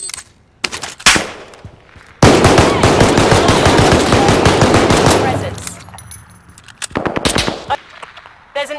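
Video game shooter gunfire: a few sharp single shots, then a long sustained automatic burst lasting several seconds, loud and close, followed by more scattered shots, with a voice speaking between.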